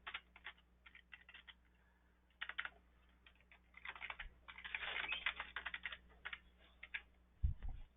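Close, quiet typing on a computer keyboard, short bursts of rapid key clicks separated by brief pauses, ending with a heavier tap.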